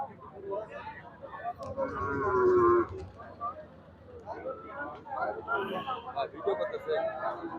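A cow moos loudly once nearby amid a busy crowd at a cattle market, with many people talking and haggling prices in the background.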